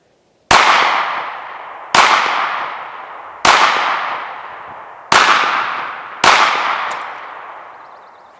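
Five loud, sharp gunshots at roughly even intervals, each a hard crack with a long ringing decay, as Winchester copper hollow point rounds, small diameter and fast, are fired at a lock, with no talking.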